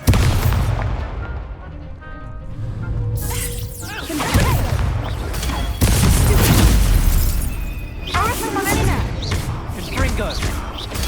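Expelliarmus disarming spell cast during a Hogwarts Legacy duel, heard as loud whooshing bursts and booming impacts repeated over several seconds, mixed with other spell effects and game sounds.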